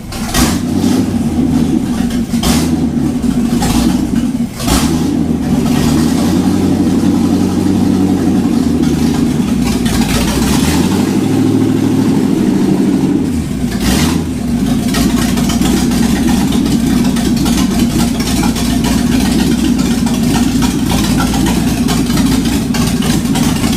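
A 1951 Chevy truck's low-compression engine with open headers starts and runs rough and loud up close, a steady rumbling idle with a few uneven revs throughout.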